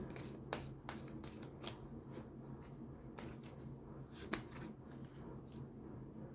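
Oracle cards are shuffled for a tarot reading, giving a quiet, close, papery rustle broken by crisp slaps and taps at irregular intervals, with no talking.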